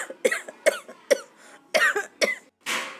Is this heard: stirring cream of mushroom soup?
no